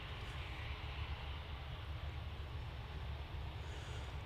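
A jet airliner at Manchester Airport gives a steady, continuous engine roar and rumble, moderately distant, with no talk over it.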